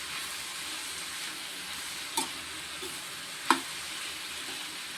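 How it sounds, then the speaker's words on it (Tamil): Steady sizzling of snake gourd frying in a small pan, with a couple of sharp clinks from a spoon scraping as it is stirred. "இப்போ இதை வந்து இந்த காயிலெல்லாம் படுற மாதிரி கிண்டி விட்டுக்கணும்"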